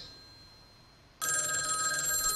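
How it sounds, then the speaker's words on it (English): A telephone rings in the video game A Sky Full of Stars: after a quiet hum, a bright, steady electronic ring starts abruptly and keeps going, clear and close, with no talking over it. "Come on, answer the phone. Pick up the phone."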